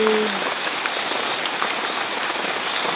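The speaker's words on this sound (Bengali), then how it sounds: "বাইরে কত বৃষ্টি" Heavy rain pours down outside a house during a storm, a dense steady hiss of drops drumming on surfaces, loud and unbroken, with no voices.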